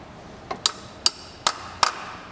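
A socket being tapped onto the bolt of a Lexus belt tensioner, five sharp metallic taps at uneven intervals, close and clear over a quiet background.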